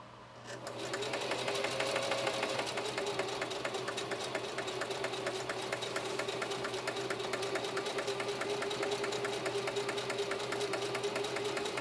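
A Singer Heavy-Duty 4423 sewing machine drives steadily through four layers of denim at a moderate, even speed, its motor whirring and the needle thumping rhythmically, close and continuous with no talk.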